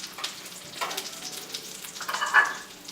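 Chicken schnitzel sizzles and crackles in a hot pan as the pieces are flipped, with soft spitting bursts and a louder hiss rising near the end.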